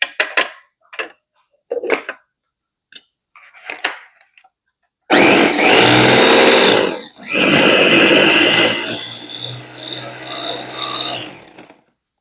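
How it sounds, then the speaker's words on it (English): A food processor chopping and grinding basil leaves with salt: a few short pulsed bursts first, then two long, loud stretches of whirring and grinding with a brief break between them, no talking. "I'm going to do one more pass on the chop and grind"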